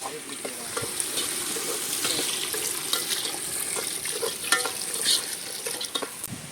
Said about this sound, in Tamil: பிரியாணிக்கு தேவையான தண்ணி சேர்த்துக்கிறோம்.